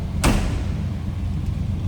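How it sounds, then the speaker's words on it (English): A 1971 Chevrolet C10 pickup's door closes with a single solid slam near the start, followed by a steady low engine hum in the background. "Door closes nicely."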